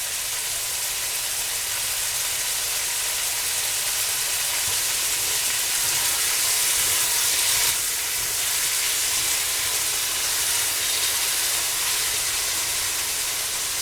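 Beef browning in a pan for a beef and gnocchi stew, a loud steady sizzle and hiss close by that holds unbroken the whole time with no voices.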